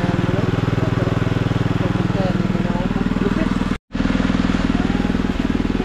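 Engine-driven water pump running steadily nearby, a loud continuous chugging drone with a rapid rhythmic pulse. It cuts out for a split second near the end, then resumes.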